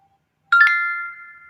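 Cash App payment notification: a single bright chiming ding-like tone with a quick double attack that rings out and fades over about a second, alone in silence.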